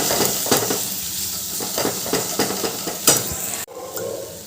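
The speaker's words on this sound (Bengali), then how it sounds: "এবার সব মশলা ভালো করে কষিয়ে নেব" Coriander, turmeric and chilli powder sauté in a pan with a dense close sizzle and repeated rhythmic spatula scrapes against metal, ending with an abrupt clatter.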